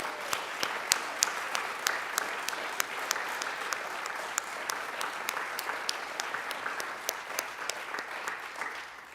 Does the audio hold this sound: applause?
yes